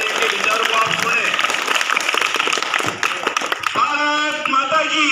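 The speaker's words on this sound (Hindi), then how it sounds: "जोरदार ताली बजा कर स्वागत करें" An audience claps to welcome a guest at a school event of a Bhilwara foundation, a dense burst of applause filling the room with voices mixed in toward the end.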